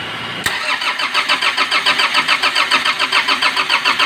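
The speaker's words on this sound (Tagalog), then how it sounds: "Paandarin na natin ulit natin kung may bulok pa." A Nissan CD17 diesel engine that had overheated cranks and fires up with a sharp start, then settles into a loud, close, rhythmic diesel idle with a steady pulsing knock.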